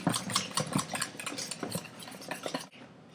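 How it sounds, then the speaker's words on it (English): A spoon stirs pumpkin puree, eggs and oil together in a bowl, giving a steady run of soft wet scrapes and clinks against the bowl's sides, close and clear with no talking. "So mix it all together till the pumpkin and egg and oil are all together"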